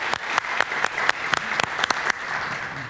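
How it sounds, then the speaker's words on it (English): An audience at a county executive candidates' town talk applauds with steady clapping, full and close, holding for a few seconds before easing slightly. "Give her a little clap."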